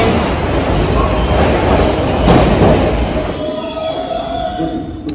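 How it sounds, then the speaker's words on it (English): Riding a Metro North commuter train: a loud, close rumble of wheels on track with rattling carriage noise, easing into quieter rolling with a faint squeal near the end. "I just wound up taking a train."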